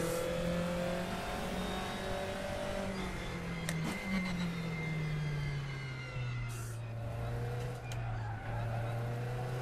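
A race car engine in the RaceRoom racing game holds a steady drone, with its pitch sliding down and back up through gear changes, loud and continuous.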